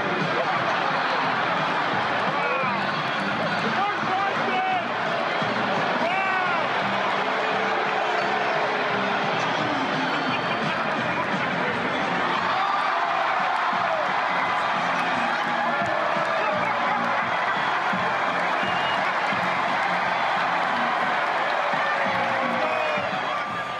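A basketball crowd applauds and cheers in a continuous, dense roar of clapping and voices that stays loud and fairly steady throughout, with a brief dip midway.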